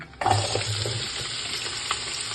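Sliced onion half-rings drop into hot refined oil in a pot and sizzle loudly at once, then settle into a steady, close frying hiss with a light stir.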